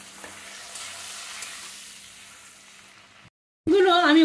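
Eggs fry in oil with Kashmiri chili powder, making a steady, close sizzle that fades slightly, cuts out briefly, then returns with a short tonal voice-like sound at the end.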